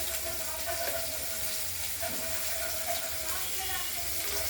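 Ail fish frying in a pan for a potato and tomato curry, a steady close hiss and sizzle of hot oil running throughout with little change, under a faint spoken voice.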